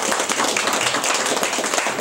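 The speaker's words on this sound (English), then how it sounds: "So how about a round of applause for" An audience at Slater Mill claps in a brisk round of applause, with close, dense hand claps throughout a short burst.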